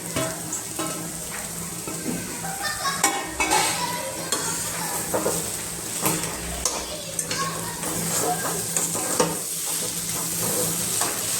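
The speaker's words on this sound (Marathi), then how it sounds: "आता आपण हा सर्व असा मिक्स करून घेऊया" Upma being stirred and mixed in a pan, with chopped coriander added: steady scraping and stirring strokes over a soft sizzle, close and fairly loud, with occasional sharper clinks of the spoon against the pan.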